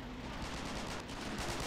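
Gunfire in a video game battle for a shoreline, a continuous dense rattle of shots at moderate level across the whole short stretch, with no talk over it.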